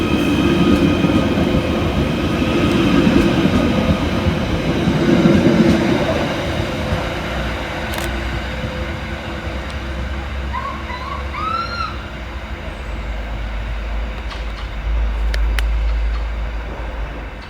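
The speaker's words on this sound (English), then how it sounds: "kicking us off will be 777-140, working the 10:49 Merseyrail electric service from Liverpool Central through to Headbolt Lane." A Merseyrail class 777 electric train, unit 777-140, at Fazakerley station, with loud rolling rumble and rail noise swelling and easing, sharp wheel squeals and clicks toward the end, and a brief high whine.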